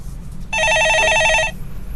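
A telephone rings on a Korean stock-market radio call-in show, a single loud electronic trill of rapid warbling pulses lasting about a second, set against a quiet studio background.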